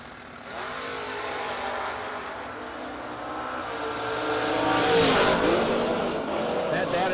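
An Olds Starfire drag car launches at a drag strip, its engine roar building steadily louder to a peak then holding, with announcer-style speech running over it.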